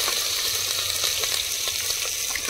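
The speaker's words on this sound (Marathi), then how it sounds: "मिरची फोडणीला. अरे वा, मस्त सरसर एकदम." Green chilies crackling and sizzling in hot oil for a tempering, cooked over an outdoor wood-fired stove built of laterite stone; a steady, close, dense hiss of frying with small pops and no talk.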